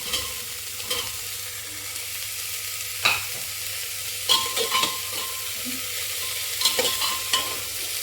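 Black-eyed peas and potatoes frying in a pan, a steady soft sizzle with occasional scraping stirs and spoon knocks breaking through.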